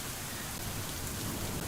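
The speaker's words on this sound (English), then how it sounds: "The forecast called for an on and off rain during the day" Rain falls steadily in a dense, hissing patter on surfaces outdoors under an overcast sky, continuous and fairly close.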